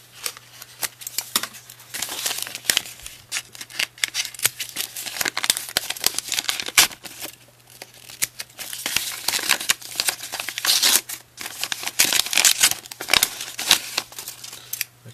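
Foil wrapper of a Pokémon card pack being cut open, crinkling and crackling plastic with scissor snips in irregular bursts, close and fairly loud over a faint steady hum.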